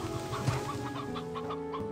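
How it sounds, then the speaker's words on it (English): Chickens clucking in the Slime Rancher 2 video game, a run of short repeated clucks at moderate level over a steady game backdrop, with no speech. "Okay, we see chickens."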